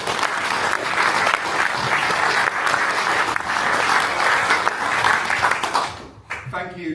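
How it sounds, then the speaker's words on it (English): Audience applause at a Doncaster mayoral hustings for the candidates, a dense, steady wash of clapping lasting about six seconds before it thins and a voice begins speaking. "Please give them a round of applause."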